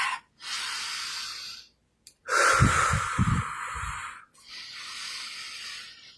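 Close, deep breathing during a guided breath-work exercise: long drawn breaths in and out in three slow phases separated by brief silences, with a rough nasal, snort-like edge in the middle breath.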